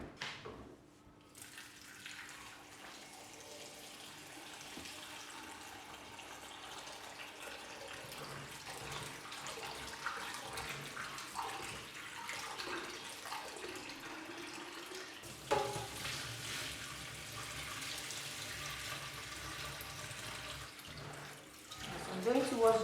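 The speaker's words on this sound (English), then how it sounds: "I'm going to wash this for 3 times." Cocoyam being washed by hand in water for porridge, a continuous sloshing and trickling close by, growing louder partway through, with some talk.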